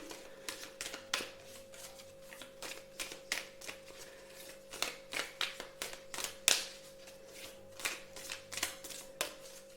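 Oracle cards are shuffled in quick, irregular riffles and taps, a close and fairly quiet run of crisp papery bursts with a faint steady tone underneath and no speech.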